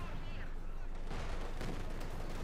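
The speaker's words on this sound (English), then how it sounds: "Machine gun getting bombarded with the T-45." Heavy battlefield gunfire and artillery blasts rumble continuously in Company of Heroes 2 as a T-45 bombards a machine-gun position, a dense, loud barrage with sharp cracks layered over a low roar.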